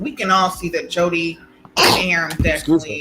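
People talk, then a sharp sneeze bursts out partway through before the talking continues.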